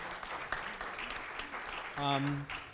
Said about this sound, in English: how about a quick round of applause to welcome all of our panelists?